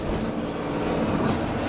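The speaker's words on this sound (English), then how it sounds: "Look at that LAPD chopper." An LAPD police helicopter flies low overhead in Los Angeles, producing a loud, steady, enveloping roar with no pauses.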